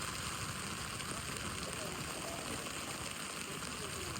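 Heavy rain pours down at the Jadukata river, making a dense, steady hiss of drops striking water and surfaces. It is continuous and fairly soft, with no distinct voices.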